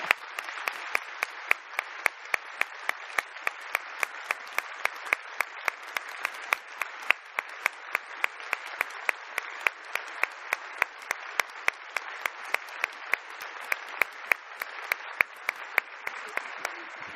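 An audience at an award ceremony applauds a lifetime achievement honoree, with steady, even clapping that lasts the whole stretch at a moderate distance and with no voices above it.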